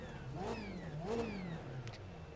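BMW M8 GTE race cars in iRacing at Donington accelerating at a race start, engines rising and falling through gear changes, quiet and somewhat distant, with a faint higher whine layered over the engine note.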